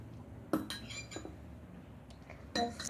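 A spoon clinks against dishes while a child is fed, giving a few faint, separate metallic chinks spread out against a quiet room background.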